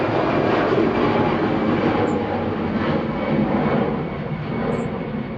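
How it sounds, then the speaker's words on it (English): An easyJet airliner departing Manchester Airport, a loud steady broadband engine roar that stays strong throughout with a gentle swell and slight fade, no voices present. "EasyJet departing here"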